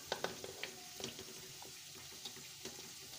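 Chicken pieces going into a kadai of hot oil with garlic-ginger paste, giving a steady low sizzle broken by several sharp spits and crackles, close and fairly quiet, with no talking.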